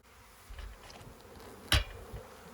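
Honeybees buzz at an open beehive during a spring hive check, a faint low hum with a few soft passing drones and one brief louder buzz close by.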